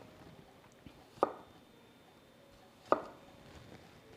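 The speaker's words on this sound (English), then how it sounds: "I'm gonna keep cooking up cutting up my cucumbers" A knife slicing cucumbers on a cutting board: two sharp, distinct chops about two seconds apart, close and clear over a quiet kitchen background, with no talk.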